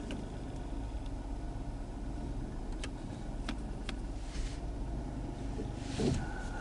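A 2020 Ford Escape idles steadily at close range while being shifted between reverse and forward, with a low engine drone, a few faint ticks and no clear clunks.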